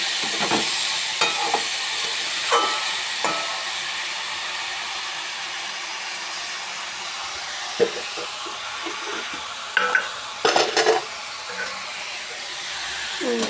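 A pan of food fries with a steady hissing sizzle while being stirred, with a few scraping spoon strokes near the start and a short burst of louder clatter toward the end.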